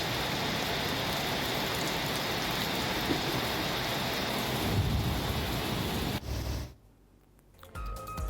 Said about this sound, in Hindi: कई जिलों में तेज बारिश के साथ आंधी तूफान देखने को मिला